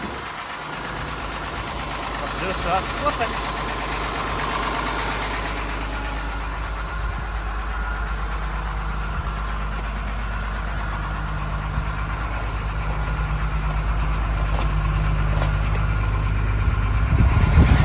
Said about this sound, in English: Definitely love the sound of a good cold purring Caterpillar.